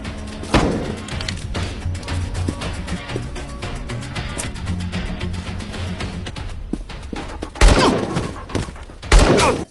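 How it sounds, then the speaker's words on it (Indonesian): Gunfire bursts through a tense action-film fight scene, a rapid scatter of sharp cracks and thuds with two heavier, louder volleys near the end, set against a busy background of impacts and movement. "Caleb dan Miranda mendengar suara tembakan."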